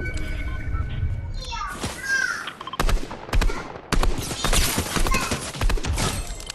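Gunfire crackles through a video game: bursts of sharp shots and rapid automatic fire, some close and loud, come in clusters over several seconds, with players talking over the action.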